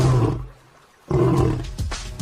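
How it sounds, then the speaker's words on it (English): A male lion gives deep, powerful roars, one followed by a short pause and then another loud, rumbling roar with grunting breaths, close and alone. "Male lions roar every day"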